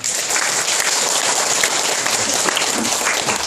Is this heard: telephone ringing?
no